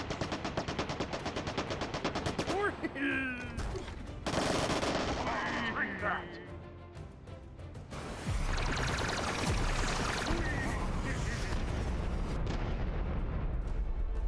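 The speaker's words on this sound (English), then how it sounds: "Don't you fire your missiles at me." Rapid gunfire and explosions crackle and boom in the VR shooter Hot Dogs, Horseshoes & Hand Grenades, dense bursts of fire broken by loud detonations that swell and fade over several seconds.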